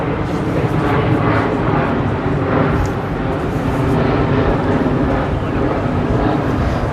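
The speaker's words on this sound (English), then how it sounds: "Let's let this airplane pass through." An airplane passes over London, a loud, steady broadband roar that fills the whole stretch with a slight swell and fade, and no voices are heard over it.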